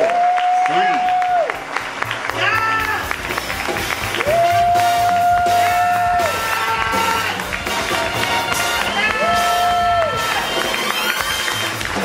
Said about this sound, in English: Let's cue some lively applause.